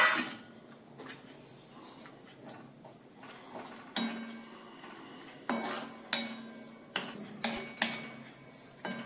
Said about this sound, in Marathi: आता आपण किसून घेतलेलं हे जे सुकं खोबरं आहे ते पण खमंग भाजून घ्यायचं.